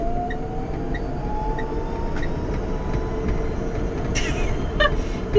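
Cabin noise inside a Citroen Ami electric car while driving, a steady loud road rumble and electric motor whine with faint rattles, and no speech.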